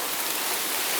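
Mumbai monsoon rain with wind pours onto a balcony garden as a steady, dense hiss of drops, loud and close.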